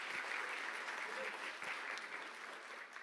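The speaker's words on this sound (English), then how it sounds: "Big round of applause, Guy." Audience at a university startup showcase applauds for Guy Phillips, a dense, even wash of clapping that fades slightly over three seconds, heard from within the room.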